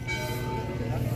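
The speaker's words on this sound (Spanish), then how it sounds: "Las campanas, las campanas." Church bells ringing at dawn in a town in Jalisco: a sustained, resonant metallic tone over low background rumble, moderately loud but somewhat distant.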